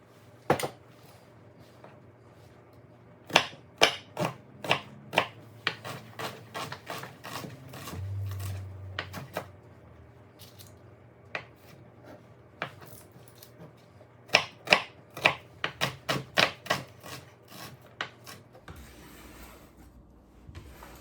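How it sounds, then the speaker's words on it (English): A single onion chopped with a knife on a board for a lentil and mushroom shepherd's pie: sharp, crisp knife strikes in irregular runs of quick chops, close and clear, with pauses between bursts and a brief low rumble midway. "So I am just starting with one onion that I'm going to chop up"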